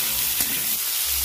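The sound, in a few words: pumpkin frying in oil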